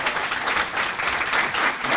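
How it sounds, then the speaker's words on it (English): An audience at a Baltimore County Chamber breakfast applauds steadily for two seconds, a dense, even wash of many hands clapping with no talk over it. "Please give him a round of applause."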